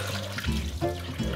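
Running water pours steadily over chickpeas soaked for two days for hummus, rinsed in a kitchen, with splashing surges as the stream hits them.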